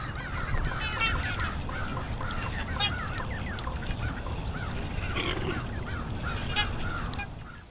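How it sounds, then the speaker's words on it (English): American black ducks quack and call over a noisy outdoor wetland, repeated honking notes scattered through a steady rumbling background. "American Black Duck."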